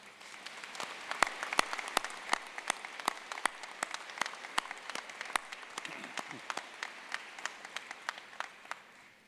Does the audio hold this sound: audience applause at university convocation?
yes